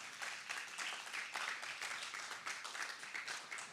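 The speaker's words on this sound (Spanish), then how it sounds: "¿Les puedes dar un fuerte aplauso a tu Dios?" Congregation applauding during a church service, a dense, continuous patter of many hands clapping, steady and somewhat distant throughout.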